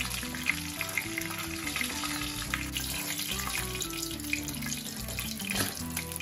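Fish head frying in hot oil, a steady, dense sizzle that holds close and loud throughout, with faint clinks of utensils over the top.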